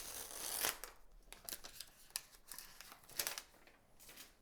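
Plastic film and packaging being peeled off a Google Pixel 10 Pro XL box, close crinkly tearing and crackling in irregular bursts, with one sharper rip early on; no speech.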